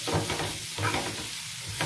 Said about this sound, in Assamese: লৰাই এইখিনি অলপ ভাজি লওঁ।